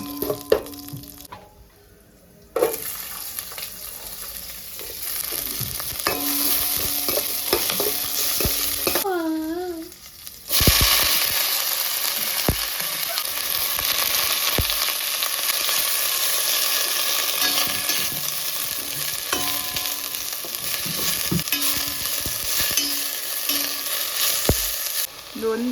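Urad dal and moong dal fry in a pan for chutney, giving a loud, steady sizzle with stirring scrapes that runs almost throughout, broken by brief quieter gaps.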